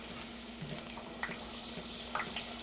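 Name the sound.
homemade potato chips frying as water boils off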